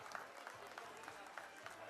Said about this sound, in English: Can we have a huge round of applause for Naksh?